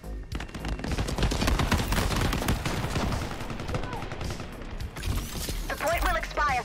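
Burst-fire gunshots in the Shatterline shooter game, rapid loud clusters of shots packed through the first few seconds, then sparser bursts and effects, with a voice talking over the gunfire.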